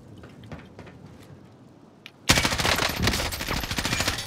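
M4 rifle firing in a video game: after a quiet stretch with faint shots, a loud rapid burst of automatic fire erupts and continues close and dense to the end, no talk.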